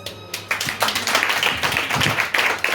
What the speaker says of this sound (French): on applaudit encore Maïlis